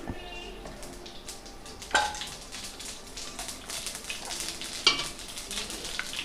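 Spices fry in hot coconut oil with a steady crackling sizzle, with a couple of sharp clinks of a utensil against metal standing out.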